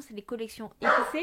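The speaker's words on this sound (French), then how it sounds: "Excusez-moi pour le chien qui aboie" An indoor dog barks at neighbours climbing an apartment stairwell, its short barks partly buried under a person speaking French nearby.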